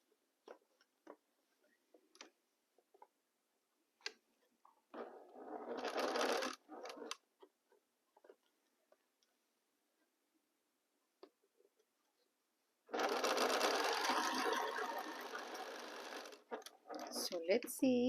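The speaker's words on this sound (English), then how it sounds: "I will gather them with a pin and start sewing" Sewing machine stitching a quilt block, running in two bursts: a short run and then a longer steady whirring run, with small handling clicks and taps between them.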